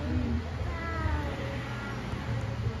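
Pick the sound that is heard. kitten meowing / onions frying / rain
kitten meowing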